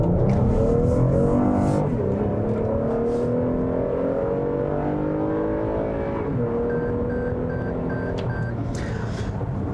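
A 2020 Toyota Highlander's 3.5-liter 295-horsepower V6 accelerates hard in sport mode. A loud, steady engine drone rises in pitch and drops at shifts near two and six seconds.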